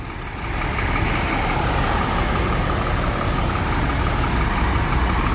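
A heavy tronton truck engine idles steadily nearby, a constant low rumble with a faint high hiss, holding level throughout with no speech.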